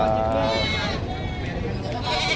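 Goats bleat at a livestock market in Padre Garcia amid buyers' chatter, one wavering cry standing out over a crowd of voices.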